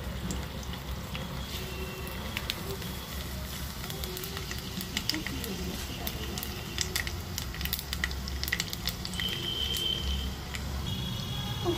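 Green chilli, whole garlic and black cumin frying in hot oil, a steady close crackling sizzle with frequent sharp pops and spits throughout, and no voices.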